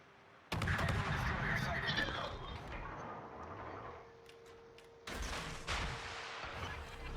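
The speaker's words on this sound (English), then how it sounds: "so I'm going to get the guns out," Guns of the destroyer Yueyang firing at a submarine in World of Warships, with loud, sharp gunfire bursts starting early and again later, under a voice talking.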